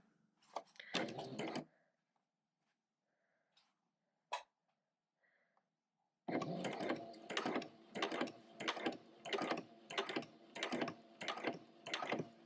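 A sewing machine stitches appliqué onto a cushion in repeated bursts of rapid mechanical whirring, each run a second or so long, separated by brief pauses; one earlier short burst is followed by a quiet stretch with small clicks.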